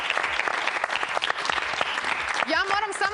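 A live TV studio audience on a Serbian entertainment talk show breaks into steady, dense applause, with voices talking over the clapping toward the end.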